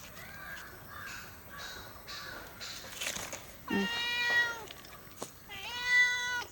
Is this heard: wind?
no